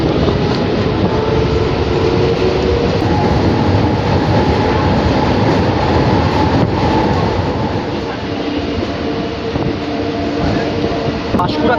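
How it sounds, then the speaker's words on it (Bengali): Local train pulling out of Shahid Matangini station on the South Eastern Railway's Kharagpur division, heard from on board as a steady loud rumble and wheel noise throughout, with faint voices in the carriage. "আমাদের ট্রেন এখন ছেড়ে যাচ্ছে হচ্ছে শহীদ মাতঙ্গিনী স্টেশন"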